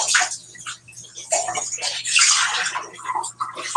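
Water pours and splashes into a measuring cup in uneven gushes, close and fairly loud, with brief pauses between streams.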